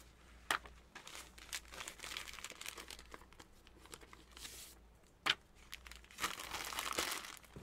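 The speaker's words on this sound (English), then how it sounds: "We take the old bags and we crumple them up and put them into one bag" Old plastic comic book bags being crumpled by hand and stuffed into a single bag, a close, continuous crinkling and rustling with a few sharper crackles, quiet overall and without speech.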